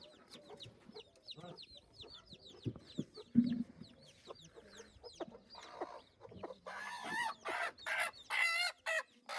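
A village hen clucks close by in repeated short bursts, then breaks into louder, agitated squawks toward the end.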